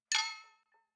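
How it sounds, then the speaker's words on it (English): Struck glass used as a processed sample in pop music production, a single bright ringing clink that decays over about half a second, followed by a faint short echo, heard alone. "So basically from this sound, which is a glass, we got this."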